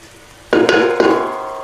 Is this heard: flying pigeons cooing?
no